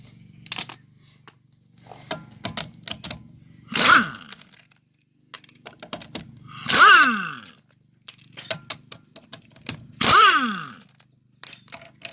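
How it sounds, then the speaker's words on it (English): A rattle gun (impact wrench) works on a car wheel while spring isolators are replaced, firing three loud, separate bursts of hammering, each about a second long, with scattered clanks and handling noises in between. "I'm going to be using a rattle gun"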